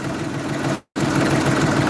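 A Jinma tractor engine idles steadily after a cold winter start at minus seven, a loud continuous low rumble with a brief gap of silence partway through.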